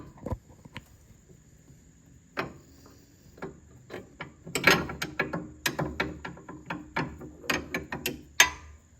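A Maximum Motorsports spring installation tool ratchets on a Fox Body Mustang's suspension, giving a run of sharp mechanical clicks that come sparse at first and then in a quicker, denser burst, close and fairly loud.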